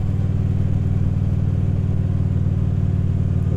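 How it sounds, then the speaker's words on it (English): Steady motorcycle engine and exhaust note while riding a scenic route, a continuous low, throbbing rumble at constant speed, loud and close, with no voices. "all I wanna hear is that motor."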